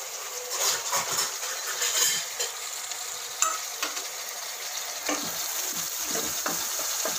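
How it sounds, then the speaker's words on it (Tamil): Onions sautéing in a pan with fried pepper chicken, a steady close sizzle and hiss broken by occasional stirring scrapes and light clinks, with no voices. "வெங்காயம் இன்னொரு ஒரு நிமிஷம் வதங்கட்டும்"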